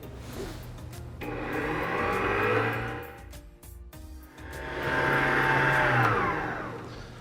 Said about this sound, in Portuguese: O nosso chantilly já está batendo há mais ou menos 5 minutos.